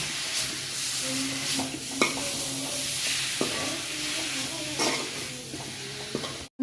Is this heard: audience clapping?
no